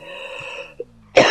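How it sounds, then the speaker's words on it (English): Coughing in a GTA game session: a short burst near the end after a brief earlier cough-like blip, loud over a steady tonal background hum. "I cough, so you gotta cough?"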